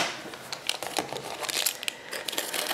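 Blue painter's tape being pulled and torn off a roll, a quiet series of crinkly, rasping tears and crackles close by, with no talk.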